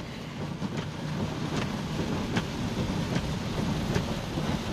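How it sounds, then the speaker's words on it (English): Steady, dense rain pours down in a continuous broadband wash, with a few brief sharper splashes or knocks standing out now and then. "this is way too much rain."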